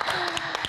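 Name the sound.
studio audience applause for a guest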